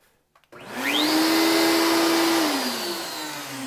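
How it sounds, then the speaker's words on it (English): A workshop vacuum and router switched on together by remote, spinning up after a couple of small clicks into a loud steady whine and roar that holds, then eases slightly near the end. "just a little switch here, turns on the router and the vacuum, ready to go"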